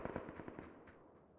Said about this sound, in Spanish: Escucha tiros fuera de zona